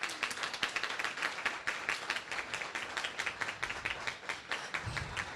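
Scattered clapping from an audience at a Lansing school district board of education meeting, thanking school representatives as they stand. Fairly thin and uneven, with individual claps audible throughout.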